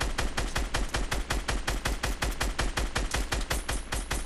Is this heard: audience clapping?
no